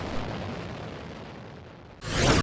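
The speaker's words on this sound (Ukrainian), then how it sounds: "У соцмережах публікують відео вибуху." An explosion strikes a bridge: a sudden loud, close blast erupts near the end after a low, steady rumble, with no talking.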